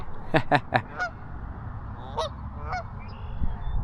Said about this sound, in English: we got some angry geese up there